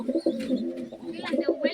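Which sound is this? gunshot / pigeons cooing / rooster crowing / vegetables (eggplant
pigeons cooing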